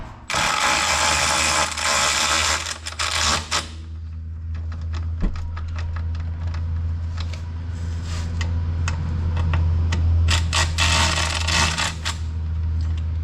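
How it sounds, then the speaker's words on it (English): A ratchet tightening A-arm guard bolts on a Can-Am Defender Limited, giving bursts of rapid clicking over a steady low engine or shop hum, loud and close, with no talking. "So I'm just going to snug them with the ratchet here"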